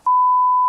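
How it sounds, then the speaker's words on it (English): A smoke detector's low-battery warning sounds as one loud, steady electronic beep lasting under a second, with no other sound around it. "This beeping noise was actually just the low battery sound from the smoke detectors"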